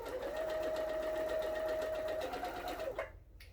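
A sewing machine hums in a steady fast run as fabric pieces are chain pieced, close and continuous, then stops near the end.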